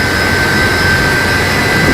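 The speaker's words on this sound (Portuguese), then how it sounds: "acelera o avião para atropelá-lo" Jet airplane engine roars steadily and loudly as the aircraft accelerates, a dense continuous whine and rumble with a high steady tone and no voices.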